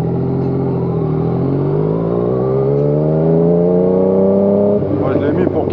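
A Yamaha MT-09 with a quickshifter and an Arrow exhaust line revving loudly up close, its engine note climbing steadily in pitch over several seconds before dropping off abruptly near the end.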